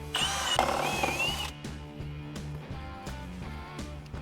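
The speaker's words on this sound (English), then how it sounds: "now I'm gonna drill this all the way through to the floor." A power drill whines and grinds close up while drilling through a floor, a high-pitched run at first, then pulsing bursts as the bit chews through material.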